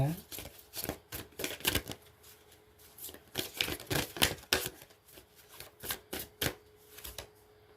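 Tarot cards being shuffled by hand in a series of quick, crisp riffling bursts with short pauses between them, close and moderately loud, with no talking over them.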